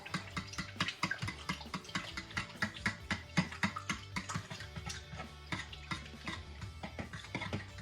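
Bannock dough is mixed with an egg yolk by hand, a steady rhythmic series of soft close thumps and sticky slaps repeating about twice a second with no talking.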